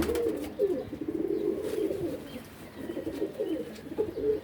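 Soft, low pigeon cooing repeats in gentle rolling phrases, close by, over faint background noise, with no talking.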